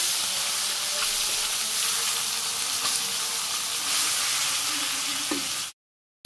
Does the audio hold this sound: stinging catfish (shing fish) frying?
yes